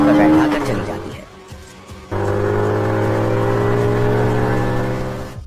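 A motorbike pulls away with a steady engine drone that holds strong and close after a sudden onset, fading slightly at the end; muffled voices and noise come before it.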